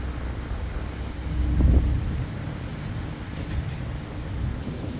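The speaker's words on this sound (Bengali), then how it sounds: "পূর্ণিমার রাতে ছুটে চলেছে ফারহান নয় লঞ্চ।" The Farhan-9 passenger launch cruising the Meghna river at night: steady low engine rumble and rushing water, with wind buffeting the microphone and a brief swell in the middle.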